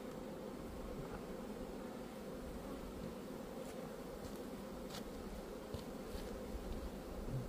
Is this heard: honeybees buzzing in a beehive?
yes